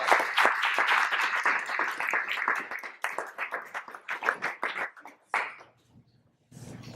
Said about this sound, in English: As he makes his way up, please give him a big round of applause.